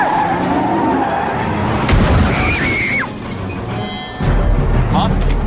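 A movie car skids with tires squealing, followed by a heavy boom and rumbling crash. Voices speak over the sound throughout.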